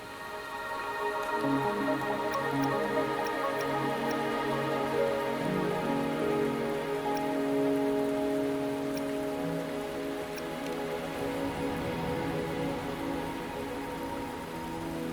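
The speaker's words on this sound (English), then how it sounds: "Are you trapped here by the rain?" Steady rain falls across a stretch of the world in Wuthering Waves, a continuous wash of drops pattering on surfaces alongside soft, sustained tonal game music, with no voices.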